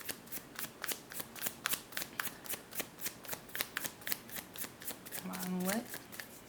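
Tarot cards shuffled by hand in a steady, rapid rhythm of crisp riffling bursts, close and clear, with a brief spoken remark near the end.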